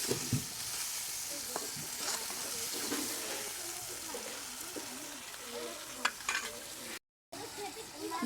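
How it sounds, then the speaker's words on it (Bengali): An onion, garlic and ginger spice paste fries in a pan for a meat curry, with steady sizzling and scattered stirring scrapes close up. The sizzle is fairly quiet and briefly cuts out near the end. "এবার আমি মশলাটাকে কষাবো"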